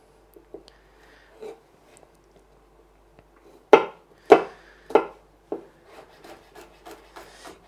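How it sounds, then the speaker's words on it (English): A knife chopping garlic cloves finely on a board: quiet scattered taps at first, then a run of sharper, louder chops, followed by lighter rapid cuts. "a couple of these cloves I'm just gonna cut nice and fine"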